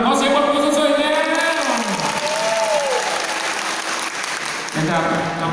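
Audience applause at a Thai school event in Sirindhorn district, steady and broad, filling the room, with voices and cheering carried along on top throughout.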